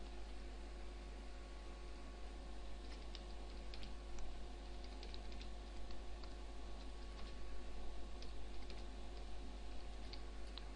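Someone types on a computer keyboard, a quiet run of soft irregular key clicks set against a steady low hum and background hiss.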